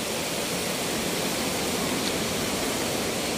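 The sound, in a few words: Ditumabo Mother Falls waterfall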